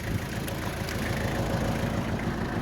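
A riding mower's small engine idles steadily with a low, even rumble and slight vibration, close by and continuous with no other sounds.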